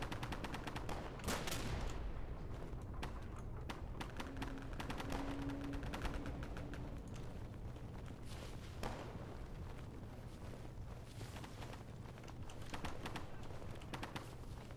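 Machine gun fire in the World War II shooter game Day of Infamy, rapid bursts of distant gunfire over a noisy battlefield backdrop, mixed with sharper nearby shots and a faint shouted voice.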